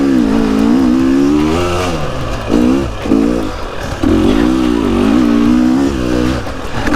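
A brand-new 2023 KTM 250 XCW dirt bike is ridden off-road. The engine revs loud and close, rising and falling as the throttle opens and blips, with brief drops in between.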